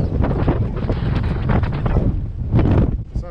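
A car drives along a rough, stony bush track in the south of Boa Vista island, Cape Verde, with a continuous loud rumble and buffeting wind noise throughout.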